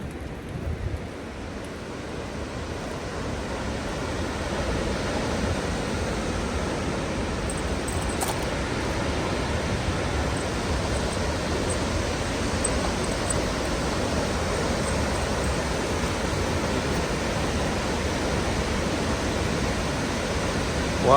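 A raging waterfall swollen by recent winter storms roars as a dense, steady wash of rushing water, loud and unbroken from start to finish with no voices over it.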